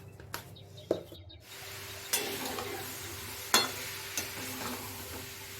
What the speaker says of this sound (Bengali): এবার অল্প লঙ্কা গুঁড়ো দিয়ে মাখিয়ে নেব আমলকিগুলি